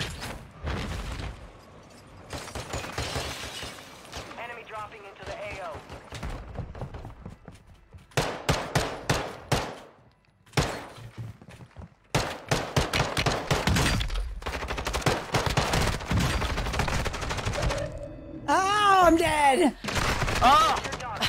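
Gunfire in the video game Fortnite, rapid bursts and single cracks of weapons firing in close succession throughout, mixed with other game effects and occasional talk.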